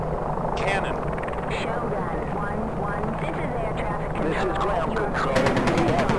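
Rapid helicopter cannon fire and rotor rumble in the combat flight game Enemy Engaged, Comanche versus Hokum, a dense sustained barrage with bursts over engine noise and radio-style voices talking throughout.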